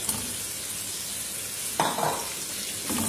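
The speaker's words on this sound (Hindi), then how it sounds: "ये जो मसाला हमने रेडी किया है इसे देसी मुर्ग के साथ हमने भूनना है।" Masala gravy with desi chicken sizzles steadily in a pan, a constant loud frying hiss with a few stirring scrapes near the end and no voices.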